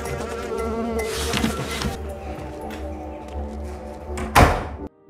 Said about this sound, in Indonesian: Seekor serangga yaitu tawon semakin menambah rasa cemas Hir karena setiap hari banyak tawon yang hinggap di rumahnya.